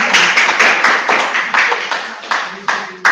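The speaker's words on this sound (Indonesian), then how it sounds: "beri aplaus untuk dosen" Applause for a lecturer during an online class meeting, steady rhythmic hand clapping from a few people heard close through a call connection, about three claps per second.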